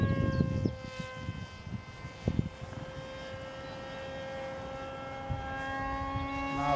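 A model F-22 Raptor jet on its maiden flight gives a steady whining engine tone that holds and slowly swells, with a few thumps and bits of wind noise early on.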